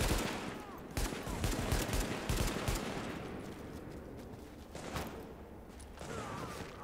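Bursts of automatic gunfire ring out in a Manhattan firefight in the game The Division, with rapid volleys and scattered single shots at moderate distance and brief quiet gaps between clusters.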